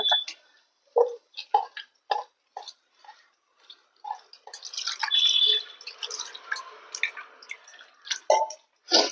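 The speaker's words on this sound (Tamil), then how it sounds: "புளி கரைச்சி வடிகட்டிக்கலாம்" Tamarind pulp juice being strained, with scattered close drips and splashes, then a brief burst of trickling liquid before the sparse drips return.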